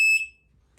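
A short, sharp electronic beep from an F3F slope-soaring timing system sounds once, loud and near, then cuts off into quiet.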